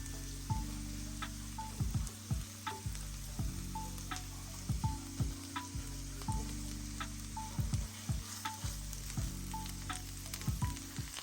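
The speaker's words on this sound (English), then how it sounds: "And I'm just going to let it saute for a minute or 2." Steady oil sizzle of onions, garlic and ginger frying in a pan, with repeated scraping and stirring strokes and a low hum underneath, no talking.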